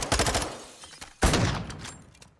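Rapid automatic gunfire in Call of Duty MWII, bullets punching through walls in two quick bursts, sharp and close, the second burst louder and trailing off.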